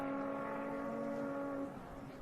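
Rally car driving flat out on a special stage of the Otago Rally in New Zealand, recorded from inside: a loud, steady engine drone holding one pitch, then dropping away sharply as the driver backs off near the end.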